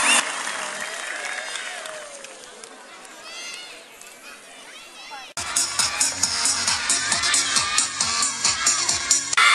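An audience at a school event in Dombivli first murmurs, then bursts into loud sustained applause and cheering after a performance, dense rhythmic clapping filling the room with crowd noise.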